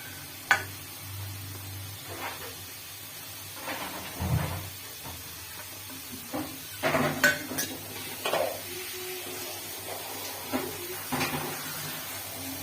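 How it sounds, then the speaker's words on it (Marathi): Crab pieces drop into a pan of red masala and get stirred, with scattered spoon scrapes, clanks against the pan and a low sizzle underneath, close and fairly quiet. "आता याच्यामध्ये आपण खेकडीचे मांदा घालून घेऊया"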